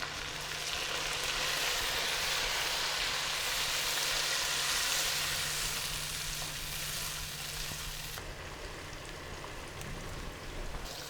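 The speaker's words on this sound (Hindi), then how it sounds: "अब इस पॉइंट पर हम इसमें शामिल करेंगे टमाटर का पेस्ट।" Tomato and green chili paste frying in a pan for a fish curry, giving a steady, loud, dense sizzle that runs without a break and eases off slightly near the end, with no talking over it.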